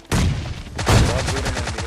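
Two loud, close AWM sniper rifle shots fire in a video game, each a heavy blast followed by a ringing decay.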